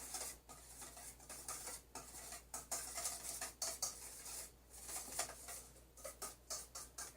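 A carb dish being stirred with a little oil, utensil scraping and clinking against the bowl in steady, repeated strokes, close and fairly quiet with no talking.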